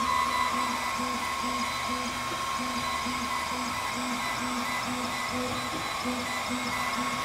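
An Atomstack laser engraver burns a chessboard pattern into wood, giving off a constant fan-like whir with a steady pulsing hum and a thin high whine, continuous and close, with no talk.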